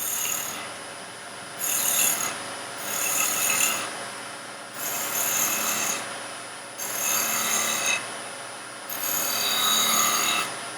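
A woodturning gouge rolls over the edge of a twig pot spinning on a lathe. It makes loud, close rasping bursts every couple of seconds, with brief quieter gaps between passes and no talking.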